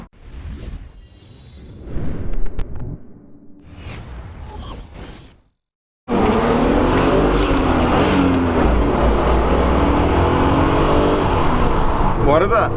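A car with its stock original exhaust drives along a road, a steady, fairly quiet engine drone and road roar heard from inside after a stretch of mixed interior noise and a brief silence; people talk over it at the start.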